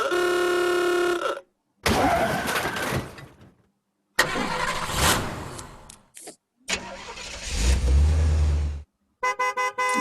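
An antique car horn sounds in several separate bursts: a sustained tonal honk at the start, rattling engine-like passages in between, and a short rapid series of toots at the end, each loud and isolated by brief silences.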